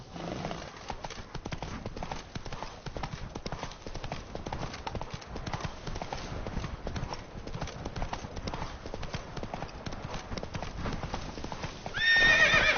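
Horse hooves clip-clop in a steady galloping rhythm across a dirt road in The Witcher 3, the pounding constant and close throughout, with a brief whinny and a louder burst near the end.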